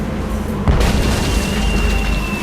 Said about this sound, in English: it's one of those spiffy new Hungarian easy-action cannons I've been begging Elaine to let me buy.